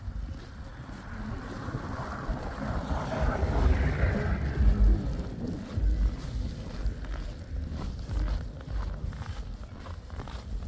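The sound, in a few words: strong wind in a snowstorm in Canada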